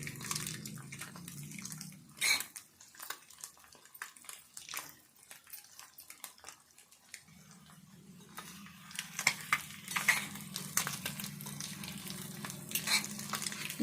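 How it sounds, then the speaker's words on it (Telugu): Egg pieces frying in oil in a pan: a soft sizzle gives way to a quiet stretch, then the hiss returns with scattered scrapes and clinks of stirring. "కొద్దిసేపు మంచిగా ఫ్రై చేసుకోవాలి"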